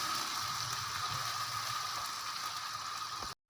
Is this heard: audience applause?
no